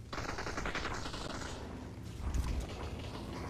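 Rapid automatic gunfire from the VR battle royale game Population: One, a dense continuous burst of shots filling the clip with a heavier thump near the end, loud and close.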